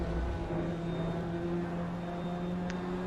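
Racing car interior engine noise from a video game, a steady harsh droning whine with sustained tonal bands, loud and continuous throughout, with no talk.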